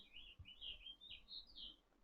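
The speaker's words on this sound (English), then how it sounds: "Can you hear the bird?" Bird chirping and tweeting at moderate distance, a string of short high whistled phrases repeating steadily over about two seconds in a quiet indoor setting with faint background noise.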